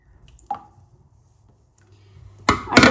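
Bean seeds are washed: a single close drip lands in quiet, then a louder burst of splashing water follows near the end, with no talking.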